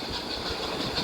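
Steady train rumble from the Roblox horror game Choo-Choo Charles, a continuous mechanical drone with faint rhythmic rattling, even and unbroken throughout the short stretch.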